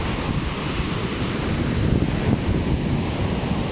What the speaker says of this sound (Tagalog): Lakas ng lakas. Laki ng maalon no.